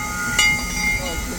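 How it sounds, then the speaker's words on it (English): A Heisler steam locomotive pulls away up the hill at a Roaring Camp steam-up gathering, giving a steady background hiss and chuffing with a brief sharp whistle-like burst, while people talk nearby. "You can hear the Shea and the Heisler in the background performing"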